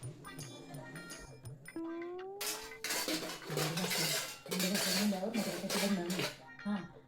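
Dishes are washed in a home kitchen with bursts of clinking and clattering of utensils and pots, loud and close, while people talk intermittently.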